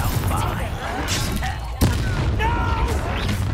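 A sharp, loud boom in Hogwarts Legacy cuts through a busy battle soundscape with scattered gunfire-like pops and sweeping tones around it.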